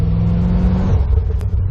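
A Chevrolet C4 Corvette V8 rumbles loudly and steadily up close, its exhaust note droning low before easing off into rougher, uneven burbles as the revs drop, with no voices over it.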